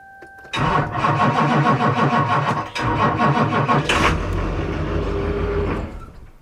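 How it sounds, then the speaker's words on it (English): A diesel truck engine, its glow plugs warmed, cranks from a portable battery jump starter with a rapid rhythmic chugging, catches, and settles into a loud, steady idle that keeps running to the end. "So this unit is ready to crank the truck over."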